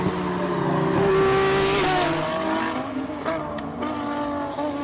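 Race car engine at the Simola Hillclimb King of the Hill shootouts, a loud continuous roar with a rising then falling pitch and shifting gears as the car passes close by, with a brief tire squeal.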